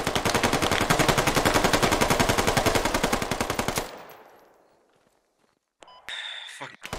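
Rapid automatic gunfire in the military shooter game Squad, a dense rhythmic burst lasting several seconds close and loud, then fading into silence before a few sharper sounds return.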